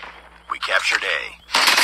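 Gunfire in the Call of Duty Mobile shooter game, a burst of loud sharp shots near the start and again at the end, with game sounds between.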